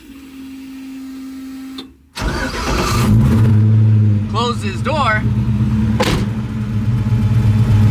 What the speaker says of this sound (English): You can hear the engine running. It is loud in here.